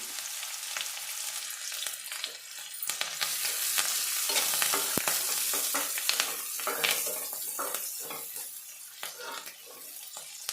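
Chopped onions and curry leaves crackle in hot oil, a loud, dense sizzle that swells mid-way, with sharp spoon scrapes and clicks scattered throughout and no voices.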